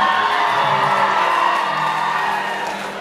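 Concert audience at a show in Chicago cheers and whoops steadily for about three seconds, a dense crowd roar that holds loud and then fades slightly toward the end.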